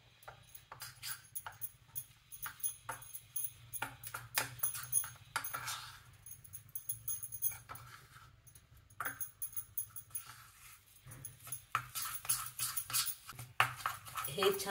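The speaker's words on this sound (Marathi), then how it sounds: "हे छान फेटून घ्यायचं आपण." Cornflour and dalda shortening being whisked by hand in a bowl for karanji pastry, a quick irregular run of scraping, clinking strokes that comes close and fairly loud in bursts, with short pauses between them.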